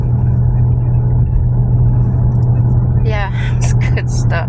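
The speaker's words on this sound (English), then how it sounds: "Driving between the lakes now" A car cruising on a highway between lakes gives a steady, loud low engine and road rumble inside the cabin, running without a break while someone talks over it.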